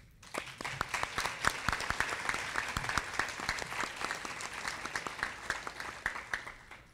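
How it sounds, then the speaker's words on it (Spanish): An audience at an electoral justice event in Baja California Sur gives a round of applause, with many distinct hand claps forming a lively, steady clatter that rises quickly and holds at a fairly close, even level. "para quienes pido un fuerte aplauso"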